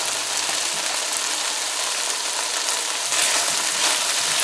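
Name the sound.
tomato and pounded garlic frying in a pan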